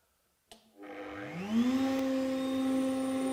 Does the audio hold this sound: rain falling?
no